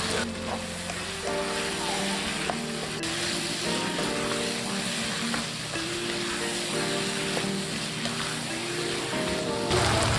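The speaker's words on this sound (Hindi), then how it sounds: "दो मीडियम साइज़ के आलू हैं, ये इसमें मैं ऐड कर रहा हूँ।" Two medium potatoes go into a pan of chicken keema cooking dhaba style, and the pan hisses and sizzles loudly and steadily, with faint stirring clatter throughout.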